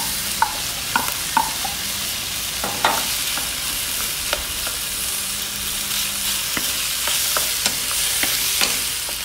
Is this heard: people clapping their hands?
no